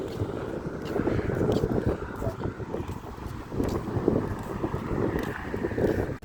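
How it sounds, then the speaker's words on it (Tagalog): Wind buffets the microphone in gusty, rumbling bursts at a bus stop, loud and continuous, with a faint voice now and then beneath the noise. "Medyo mahangin."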